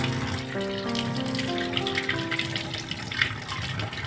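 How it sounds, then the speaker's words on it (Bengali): Running water gushes steadily as something is rinsed under it, a close, continuous splashing flow with a faint tonal hum underneath and no talking. "ফুকুশ করে ধুয়ে নেব"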